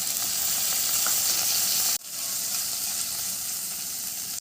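Chopped tomato hits hot oil already holding green chilli, black cumin and ginger paste, giving a loud, steady, close sizzle and frying hiss that briefly drops off near the middle and then picks right back up.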